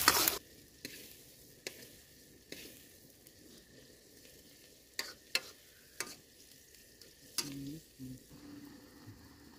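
Onions fry gently in a pan at a forest campsite with a soft, steady sizzle and occasional sharp clinks and knocks, close and without talk.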